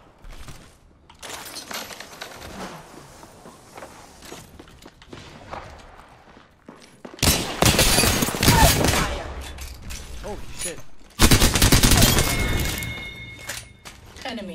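Bursts of video game gunfire in a squad shooter, with loud broadband volleys around the middle and again near the end, under and between the voices of players talking.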